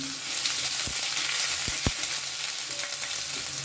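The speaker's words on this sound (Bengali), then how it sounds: "এটা একটু ভালো করে ভেজে নেব যাতে আদা রসুনের কাঁচা গন্ধটা না থাকে" Ginger-garlic paste fries in oil for a yogurt fish curry, a steady, close sizzle broken by a few sharp clicks of a utensil against the pan.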